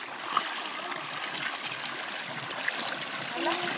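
Water spills from one tank down into another tank below, a continuous splashing trickle and gurgle at moderate distance that runs steadily throughout with faint background voices.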